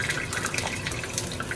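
Hot cooking oil poured into a ladle in a Kabul home kitchen while making kofta chalaw: a steady, close liquid trickle with soft gushing for under two seconds, no voices.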